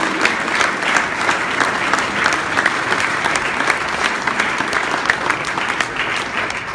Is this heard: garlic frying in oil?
no